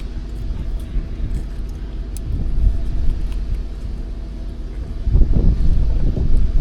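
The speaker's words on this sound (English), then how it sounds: "There's a lot of breeze going on here, so it's windy, very, very windy." Strong wind buffets the microphone outdoors beside an Alberta lake among trees, a loud continuous low rumble that swells in gusts and grows heavier toward the end.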